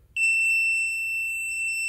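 A water leak sensor alarm gives one sustained, piercing electronic tone that starts abruptly and holds steady and loud for nearly two seconds, with no talking.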